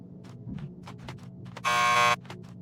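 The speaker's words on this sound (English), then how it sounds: "Just press the buzzer by the door." Door buzzer in the video game Max Payne 2, a harsh electric buzz lasting about half a second, loud and alone amid quiet ambient clicks and thumps.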